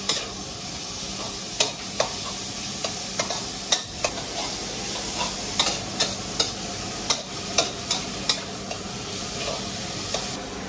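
Minced pork stir-frying with long-cut red pepper for pad krapow hisses in a constant sizzle, punctuated by regular sharp clacks of a spatula against the pan about every second, close and with no talking.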